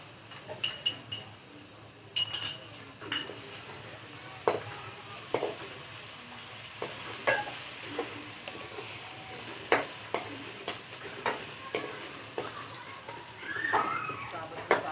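Ginger and garlic paste sizzling in hot oil in a pan as it is stirred, with soft frying hiss under repeated scraping and clinking of the spoon against the pan, fairly quiet and close.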